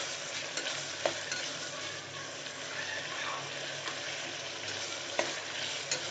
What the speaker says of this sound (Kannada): ಟೊಮೆಟೊ ಸ್ವಲ್ಪ ಫ್ರೈ ಆಗ್ಬೇಕು. ನಮಗೆ ಚೆನ್ನಾಗಿ ಫ್ರೈ ಆಗಲಿ ಸ್ವಲ್ಪ.